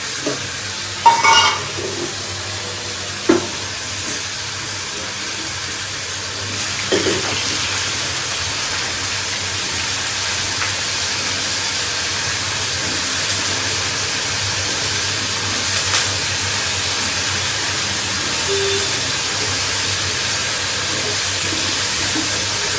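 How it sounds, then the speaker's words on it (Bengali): Potatoes and yardlong beans sizzle steadily in a hot pan with panch phoron, a continuous crackling hiss with a few clinks of a utensil near the start and no talking. "বরবটি আলু ভাজাটা চাপিয়ে দিলাম"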